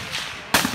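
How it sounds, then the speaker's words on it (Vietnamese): An AK-47 fired at an outdoor shooting range: one sharp, loud, close report bursts out after a short quiet lead-in, then rings briefly. "phải các bạn phải ra đến trường bắn như này các bạn mới biết là cái đạn nổ nghe nó kinh khủng"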